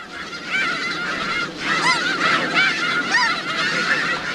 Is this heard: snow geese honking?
yes